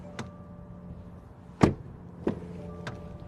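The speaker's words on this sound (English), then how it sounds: "Door open and close sound from the outside." A 2020 Subaru Legacy car door opened and shut from outside: a sharp latch click and a solid closing thunk, then a fainter second knock, over a quiet background with a faint steady tone.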